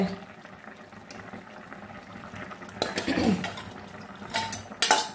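A spoon works boiled potato pieces in a cooking pot, crushing them lightly: quiet scrapes and knocks against the metal, with a louder clattering burst midway and another sharp clink near the end.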